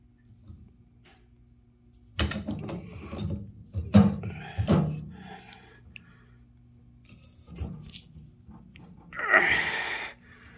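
A wrench turns a fitting counterclockwise while replacing an old water heater, giving a few separate metallic creaks, clunks and ratchet-like scrapes in short bursts with quiet gaps between.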